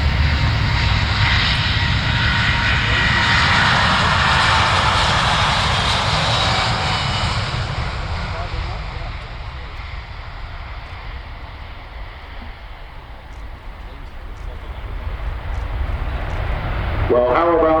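A Boeing 787-9 Dreamliner in All Nippon Airways livery flies a demo display at the Farnborough air show in 2016, its jet engines roaring loud and sustained, with the roar easing somewhat midway and swelling again toward the end.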